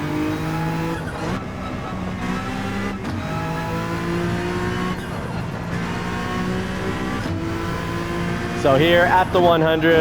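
Honda NSX engine in Gran Turismo 7 revving and climbing through the gears, rising whine repeatedly cut by shifts, with tire squeal near the end and someone talking over it.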